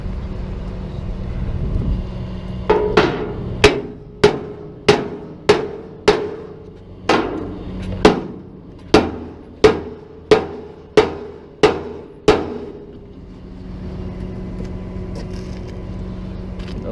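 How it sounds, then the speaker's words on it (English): A hammer strikes a stuck bolt on a crashed vehicle during a light-duty tow job, landing about a dozen loud, sharp metallic blows in a steady rhythm, then stopping, over a low engine hum. "Let me just beat it with a hammer that way."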